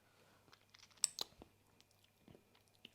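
Close, quiet chewing and crunching of freshly made tandoori chicken, a few soft bites and mouth sounds over a steady low background hum.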